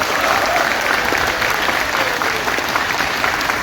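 An audience at a business meeting applauds steadily and fairly loudly for a few seconds. The clapping is a dense, even wash of many hands with no voice rising above it.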